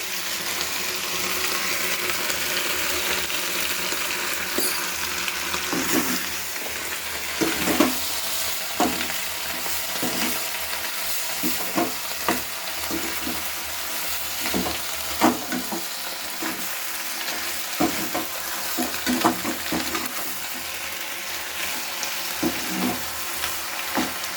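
Spices fry with a loud, steady sizzle in a home kitchen pan, while a spoon scrapes and stirs in irregular clinks and knocks throughout, with no talking.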